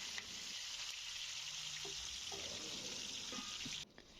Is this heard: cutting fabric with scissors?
no